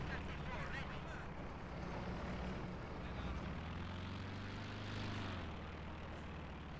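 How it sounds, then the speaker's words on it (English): A propeller airplane drones steadily in a video game, a continuous engine hum with a slight pitch shift midway, heard under voices talking. "the plane is still in the air, just going like a mosquito on a summer night"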